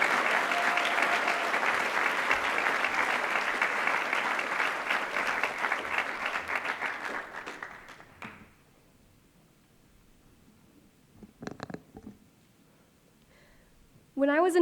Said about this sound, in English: Please give a warm round of applause to Amelie Laxon.